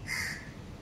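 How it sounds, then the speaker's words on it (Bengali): A crow caws once outside a balcony, a short, harsh call a few tenths of a second long, fairly faint against quiet room tone. "কাক ডাকছে"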